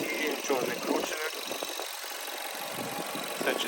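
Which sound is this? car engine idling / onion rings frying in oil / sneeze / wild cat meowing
car engine idling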